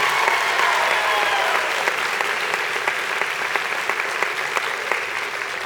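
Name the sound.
audience applause at band concert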